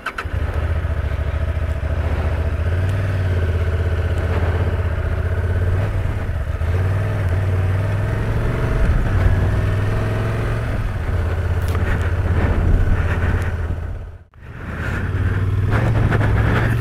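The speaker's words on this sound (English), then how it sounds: "riding around on the gravel, this bike is extremely competent" A 2023 Honda Transalp XL750 motorcycle riding on gravel, its engine droning steadily and loud throughout with a brief drop near the end, while wind and tyre noise on the loose surface run underneath.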